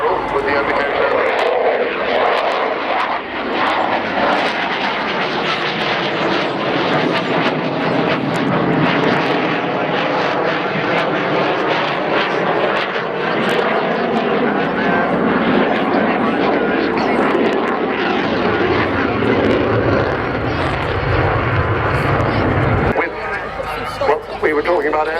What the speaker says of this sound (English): a barrel roll as he comes in from the left with the undercarriage down